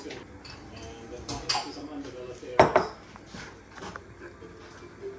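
Glasses of raspberry honey wine clink together a couple of times in a toast, sharp and close, amid quiet room noise and soft voices.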